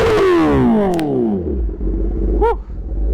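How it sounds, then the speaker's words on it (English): A superbike engine idling loudly, its deep steady rumble carrying distorted, falling harmonic tones, with a short rising whine and a brief click on top. "it's on idle, but it's pretty loud"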